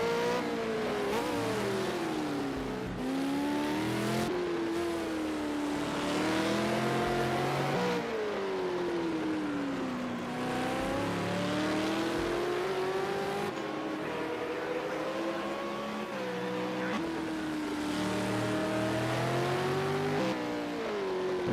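Race car engines in a Super 2 series race at Long Beach, a continuous loud whine that rises and falls with gear changes and acceleration throughout, with no talk.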